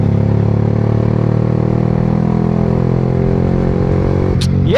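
A 2025 Yamaha R15M motorcycle runs at high speed with a loud, steady engine drone and heavy wind rush, the tone holding level until a brief rising whine near the end.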